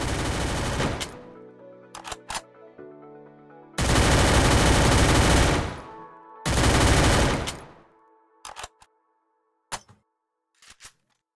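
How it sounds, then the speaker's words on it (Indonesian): Bursts of rapid automatic gunfire from a high-fire-rate weapon in the video game Free Fire, loud and close, in three long volleys separated by short pauses and a few single shots, no talking. "Ini adalah senjata dengan rate tinggi. Perhatikan peluru yang dikeluarkan dari tembakan."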